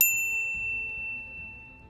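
A bright notification bell dings once with a sharp attack, its clear metallic ring fading slowly over about two seconds against near silence.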